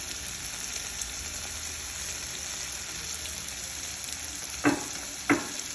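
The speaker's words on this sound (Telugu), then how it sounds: "ఇప్పుడు నేను తాలింపులో బీరకాయలు వేసేసిన," Ridge gourd pieces sizzle steadily in hot tempering oil with salt and turmeric, a constant close frying hiss, broken near the end by two short sharp knocks like a spoon against the pan.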